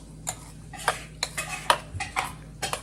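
Spoon stirring curd rice in a pot, a series of light metallic clinks and scrapes in an irregular rhythm, close up and fairly quiet, with no talking.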